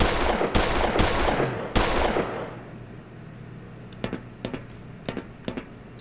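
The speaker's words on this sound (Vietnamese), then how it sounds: "Thằng kia bắn đấy." Gunfire in Half-Life: Black Mesa, a burst of several loud shots over the first two seconds, then a quieter string of separate, sharp single shots spaced out toward the end.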